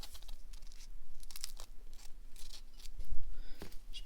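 A knife slicing through crispy fried egg rolls at an angle, with crackly crunching and tearing of the fried wrapper in several short bursts, close up, followed by a firmer thunk against the board.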